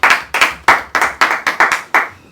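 A small group of audience members claps at a community discussion forum on sustainable social economy enterprises; the hand claps land in about nine distinct, fairly loud bursts with short gaps between them, and no one speaks.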